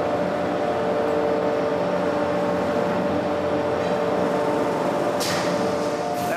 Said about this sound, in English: pinching it between two fiber wheels, which have a grit compound in them, and that removes the scale from the surface of the blade